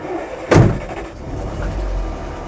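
A Land Rover Series III 88-inch truck cab engine turns over with a sharp burst, then settles into a low, steady idle rumble close by.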